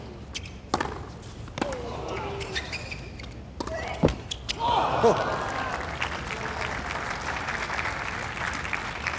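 Tennis crowd at a US Open third-round women's match gasping and reacting, then applauding through the second half, with sharp ball or racket hits early on and a commentator's voice over it.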